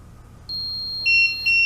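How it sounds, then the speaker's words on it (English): Electronic high-pitched beeps from a leak sensor pairing, one longer tone then two short beeps in quick succession, clear and close against a quiet background. "Double beep"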